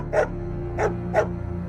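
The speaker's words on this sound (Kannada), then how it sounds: "ಆಗ ಕರ್ಣ ರಾಜಶೇಖರ್ನ ಎದುರು ಬಂದು ನಿಂತು ಜೋರಾಗಿ ಘರ್ಜಿಸ್ತಾನೆ." A dog barks loudly three times as a sound effect in a narrated moral story. The sharp, evenly spaced barks sound close and stand out over a steady low background hum.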